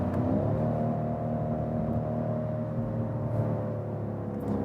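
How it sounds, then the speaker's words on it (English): A 2019 BMW M550i V8 engine hums with a deep, low rumble at a steady, moderate level, heard from inside the car with no talking. "It's a really low frequency sound."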